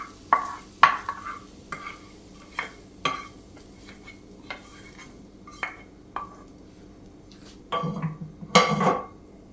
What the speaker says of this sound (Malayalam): ഇനി നമുക്കിത് ഇളക്കി മിക്സ് ചെയ്യാം.